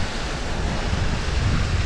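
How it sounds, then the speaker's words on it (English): Water spilling over a small spillway at a golf course pond, a steady, broad rushing wash that is close and continuous with no pauses. "We got another little spillway over here."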